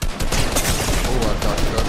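Video game gunshots in a 2v2 Zonewars match strike the player, a fast, loud volley of close cracks packed tightly together with little pause throughout.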